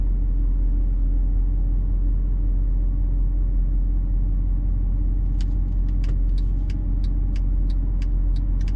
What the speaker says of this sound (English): I hear the transmission downshift all the way in the first gear